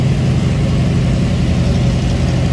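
A 1962 Chevrolet Corvette convertible's 327 V8 with dual exhaust idles steadily up close, a deep continuous rumble with no voices over it.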